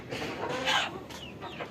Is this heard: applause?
no